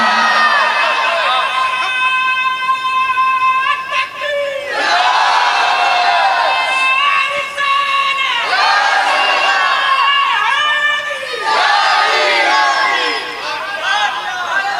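A large gathering at a religious bayan chants the Naara-e-Haidari slogan in unison. Loud, multi-voiced shouted phrases rise in repeated waves, each swell followed by a short pause.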